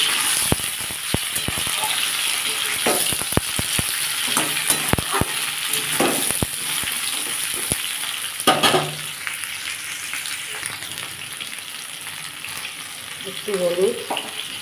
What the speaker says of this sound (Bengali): তেলটা গরম হয়ে গেছে আমি পটলগুলো তুলে নিয়েছি